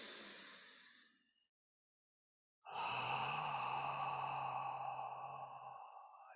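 A controlled cleansing breath during a kung fu fitness session: a long airy exhale fades out, then after a short silence a fuller, steady breath follows with a faint low hum beneath, close and alone.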